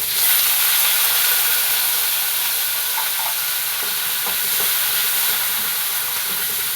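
About ten shallots and six or seven garlic cloves sauté in a pan for an Andhra-style chutney, giving a steady, close hiss of sizzling with a few soft stirring clicks and no talk.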